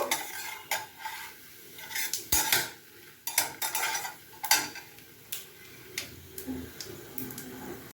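Bori (lentil dumplings) being stirred and fried in a pan, with repeated scraping clatters of a utensil against the metal and a soft sizzle underneath, no talking.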